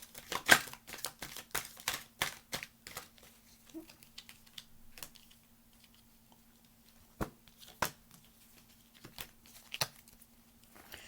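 Tarot cards get shuffled by hand in quick, crisp bursts of riffling and slapping, close and fairly quiet, with pauses between flurries and a faint steady hum underneath.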